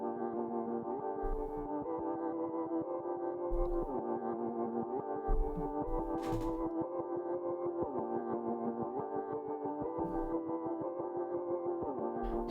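Quiet layered instrumental processed in Logic with tremolo and full effects, a steady pulsing wash of sustained chords with soft low thumps recurring every couple of seconds throughout.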